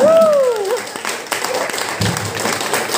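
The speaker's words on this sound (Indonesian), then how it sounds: "berikan aplaus untuk kita semuanya" Audience applause at a Tiens leadership seminar in Makassar, a steady wash of clapping from the crowd that runs throughout, with a whistle-like tone at the start and voices mixed in.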